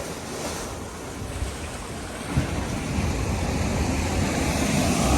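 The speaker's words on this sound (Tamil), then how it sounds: "அந்த அலை வந்து அடுத்த அலை வந்து இப்படி எப்படி அடிக்கணும்." Ocean surf at a beach in Arugam Bay, a loud, continuous roar of breaking waves rising slightly with one heavier crash midway, heard up close with no voices.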